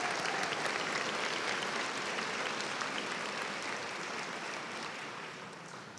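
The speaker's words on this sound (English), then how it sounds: "Let's give these individuals a round of applause" An audience at a spring afternoon graduation ceremony gives sustained applause for honored faculty, a broad, even wash of clapping that holds steady and then gradually fades over six seconds.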